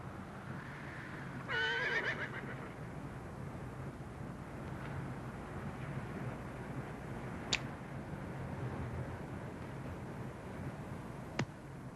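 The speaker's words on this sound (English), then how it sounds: "Caballo." A horse whinnies once, loud and close, in a western outdoor setting, over steady low background rumble with a couple of sharp faint clicks later.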